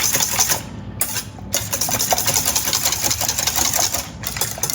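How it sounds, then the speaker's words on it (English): Eggs are whisked briskly in a bowl for a veggie egg bake, a close, loud, fast rapid clatter running almost without pause. "And now we just need to whisk it nicely."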